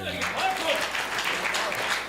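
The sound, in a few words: audience applause at Hindi comedy poetry show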